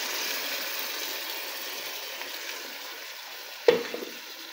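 Fish fries in a pan with a steady, even sizzle throughout, broken near the end by a brief clatter of a utensil against the pan.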